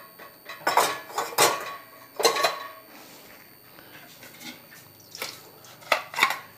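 Metal cooking pots, a rice-draining pot among them, are set into the rack of a KORYO tabletop dishwasher, giving several separate clinks and clanks with quiet pauses between them and no talk.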